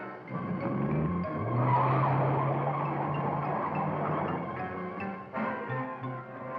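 A cartoon race car's engine, a close, loud sustained roar with a rising tone that holds steady and then shifts pitch near the end, alone without voices.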